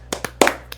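A few sharp, separate handclaps, close and sparse, as an audience applauds actors after a screen-acting performance.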